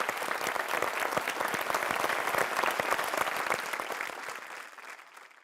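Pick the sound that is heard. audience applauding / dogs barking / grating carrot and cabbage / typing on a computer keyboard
audience applauding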